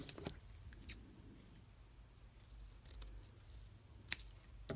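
Scissors cutting paper for a journal page, with a few sharp snips spread out over quiet, faint rustling in a calm indoor setting.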